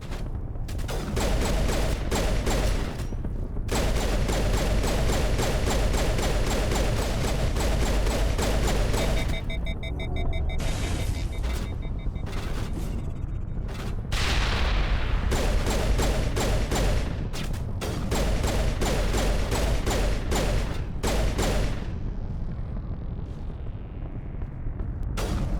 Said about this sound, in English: While my teammates fire at me.